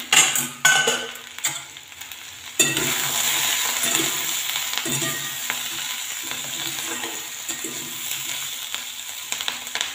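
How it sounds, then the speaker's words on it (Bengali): Potato and spring onion frying in a pan, a few sharp clanks of the spatula at first, then a steady continuous sizzle with light stirring scrapes, no talk. "আরেকটু ভাজা হয়ে যাক,"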